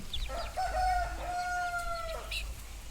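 A parrot-beak rooster on a farm gives a long, clear crow at moderate distance, rising and then holding a drawn-out note, with faint clucks and background murmur around it.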